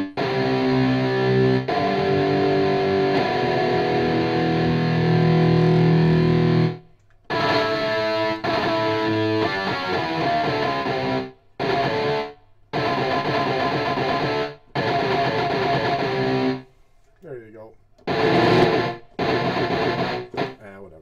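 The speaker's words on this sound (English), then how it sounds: "This is just more power chord stuff." Heavily distorted electric guitar chords ring out loud and alone, played in bursts separated by short silences.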